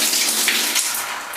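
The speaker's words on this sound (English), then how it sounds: "so I'm going to turn on the water" Water from both hot and cold taps rushes steadily through a shower head, a constant broadband hiss with slight surges, close and loud with no talk.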